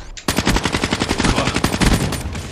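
Rapid machine gun fire from the video game Black Ops III on Xbox, a dense continuous burst of loud, closely spaced shots running through the whole stretch without pause.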